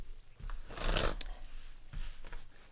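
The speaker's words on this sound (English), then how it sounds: "One more shuffle." Tarot cards being shuffled in a soft, papery burst near the middle of the clip, with lighter riffles before and after, close and fairly quiet with no talking.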